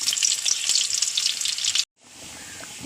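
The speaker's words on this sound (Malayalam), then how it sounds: "ഉള്ളി ഇടുന്നു" Onions dropped into hot oil in a clay pot, a bright steady sizzle that cuts off abruptly, then returns as a softer, even frying hiss.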